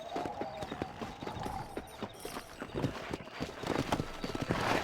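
In the Red Dead Redemption 2 video game, a ridden horse clip-clops along in a steady, even hoof rhythm, close and moderately loud, with a faint ambient background behind it.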